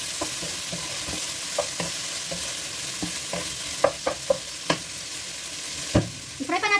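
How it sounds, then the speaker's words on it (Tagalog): Garlic and pork belly frying in a pan, a continuous sizzle punctuated by sharp spatula knocks and scrapes at irregular intervals, close up, ending in a quick cluster of taps. "I-fry pa natin konti mga idol"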